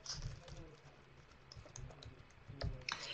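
A site name is typed on a computer keyboard, quiet clustered key clicks in short bursts with pauses between, close and faint.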